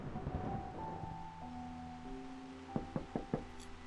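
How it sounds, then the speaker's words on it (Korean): Knocking on a door in the video game Reverse: 1999, four crisp raps in a steady rhythm over soft, sustained background music. "문을 두드리는 소리에 깨어났다"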